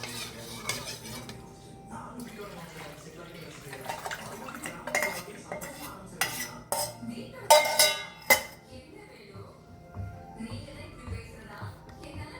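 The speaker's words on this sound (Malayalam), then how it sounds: "അതും കൂടെ നമുക്ക് അതിനകത്തോട്ട് ചേർത്ത് കൊടുത്തിട്ട് കൈവിടാതെ നന്നായി ഇളക്കി യോജിപ്പിക്കാം" A spoon scrapes and clanks against a pan while beetroot halwa thickened with a cornflour mixture is stirred over high flame, irregular metallic knocks and scrapes building to louder clinks midway, then softer stirring.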